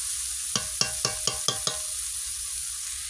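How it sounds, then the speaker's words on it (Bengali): Onions and green chilli with a little turmeric stirred in a frying pan, six quick scraping strokes of the spoon over a steady sizzle, close and fairly loud, no voices. "এটা নেড়ে নেড়ে ভাজা ভাজা করতে হবে।"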